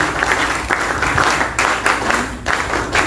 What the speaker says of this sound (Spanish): pido también un fuerte palmas